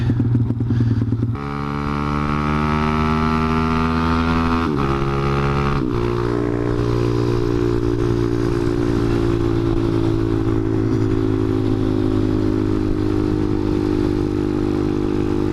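A motorcycle on the road, its engine rumbling loud and close as it revs up through the gears with brief drops between shifts, then settling into a steady cruising drone over wind noise.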